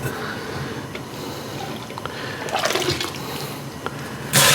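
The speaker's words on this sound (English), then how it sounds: "let me dip over some of this hot water into here." Hot water poured into a mash tun fitted with a false bottom while mashing grain for an American single malt whiskey, a steady watery pour and trickle at moderate level that swells into a loud rushing gush near the end.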